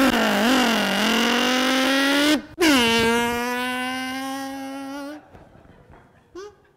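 A Kawasaki motorcycle engine revs loud and close during a comedy juggling act on stage. It holds a steady, buzzing drone, cuts out briefly, roars back, then fades and stops.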